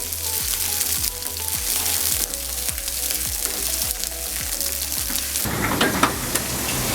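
Finely chopped onion and garlic fry in oil with dried chilli for a water spinach dish, giving a dense, continuous close-up sizzle marked by regular rhythmic stirring scrapes that grow rougher and louder toward the end.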